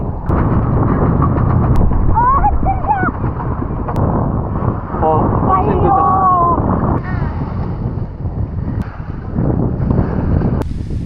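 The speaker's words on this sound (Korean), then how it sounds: "와, 바람이 엄청 세네." Strong wind buffeting the microphone while out on a small rented boat on a lake, a loud continuous roar and rumble with a few brief voices and exclamations over it.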